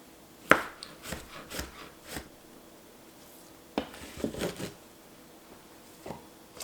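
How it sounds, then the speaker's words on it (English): Scattered knife taps on a cutting board while chopping a pear, a few sharp cuts then small irregular clusters, close and fairly quiet with no talking. "So I'm just kind of chopping the pear."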